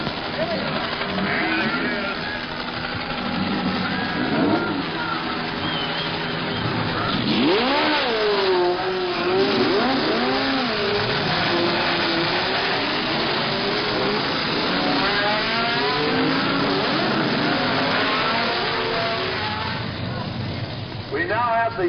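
Race cars roar off the line together at the start of the Sebring 12 Hours endurance race, a loud, sustained wall of engine noise with rising and falling revs as the cars accelerate past.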